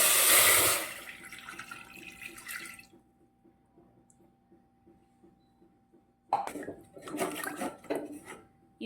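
Water is poured into a pan with jaggery on a stove, with a short splashing pour, a quiet pause and then more bursts of splashing, close and fairly soft.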